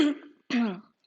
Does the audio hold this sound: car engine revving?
no